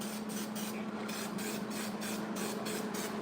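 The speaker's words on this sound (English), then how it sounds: "Let's get some weld through primer." Weld-through primer, a zinc-based coating, hisses steadily from an aerosol can in short repeated bursts, close and continuous, with no talking.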